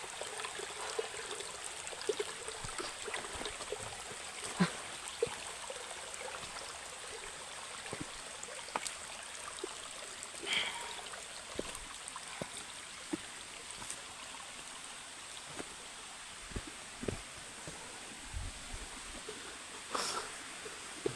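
A small mountain stream trickles and flows steadily at low volume along a hillside trail, with scattered faint knocks and rustles.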